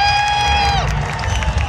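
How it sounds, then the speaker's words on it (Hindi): Audience at a live youth festival stage show clapping and cheering, a loud, dense crowd noise that sits under a fading sustained musical tone. "अब तो तालियां बजानी चाहिए।"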